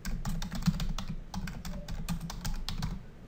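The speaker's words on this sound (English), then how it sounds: "This is where you would type that in." Fingers type steadily on a computer keyboard, a close run of quick key clicks with brief pauses and no one talking.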